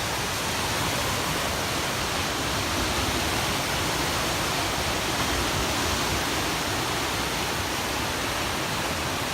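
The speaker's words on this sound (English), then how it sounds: "Sounds like the ocean. Got the waves going on." Lake Erie waves breaking on a rocky beach at Erie Bluffs State Park make a constant, broad rushing wash, steady and fairly loud with no distinct individual breakers, no voices.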